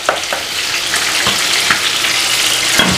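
Chicken butter masala fries loudly in a pan with a dense continuous sizzle, and soft spoon scrapes from stirring recur every half second or so; no voices.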